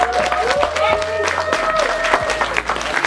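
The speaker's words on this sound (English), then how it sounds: "So can you give a round of applause for Brother Dougie as he comes to the stage with me" A club audience claps as a co-host walks on stage, a moderate, somewhat sparse round of applause with a tonal hum and scattered voices beneath it.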